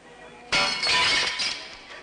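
Glass shatters with a sudden loud crash as mirrors are struck with a drinking glass, followed by a second burst and a tinkling spray of shards that fades out.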